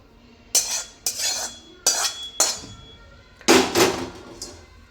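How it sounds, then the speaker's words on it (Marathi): A metal utensil repeatedly scrapes and knocks against a wok while scooping out a roasted spice mix, five or six sharp scraping strokes with short pauses between, close and loud. "चला तर मग आता मसाला कढईतला आपण काढून घ्यायचा आहे।"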